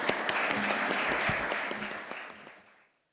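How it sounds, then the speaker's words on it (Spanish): A conference audience applauds steadily for about two seconds, a dense wash of many hands clapping that then fades away toward silence. "un forte aplauso para eles."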